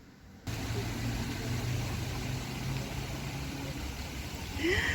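A car arriving and pulling in, heard as a steady engine hum with broadband road and air noise that starts abruptly and holds for several seconds, moderately near with no talk.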